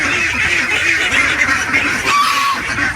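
Several geese honk repeatedly and loudly close by, a noisy overlapping chorus of nasal calls with no talking.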